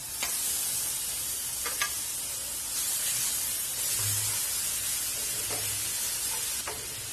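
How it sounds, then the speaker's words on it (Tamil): Ground onion and garlic paste sizzles and hisses in hot oil, with occasional clicks of a spoon stirring the pan; no one speaks. "இப்போ நம்ம அரைச்சு வச்சிருக்க இந்த வெங்காயம் பூண்டு விழுது இருக்குல்ல, அது சேர்த்திக்கலாம்"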